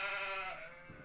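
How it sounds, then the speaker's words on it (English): A single drawn-out sheep bleat, haunting and echoing, used as a tabletop role-playing game sound effect, loud and wavering before fading into a reverberant tail. "bleating of sheep."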